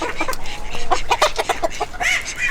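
Several chickens cluck and squawk close by in a busy, overlapping chorus in a breeding pen shared with golden pheasants, with sharp calls rising above the steady background of the flock.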